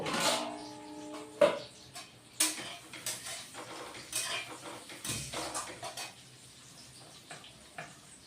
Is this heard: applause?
no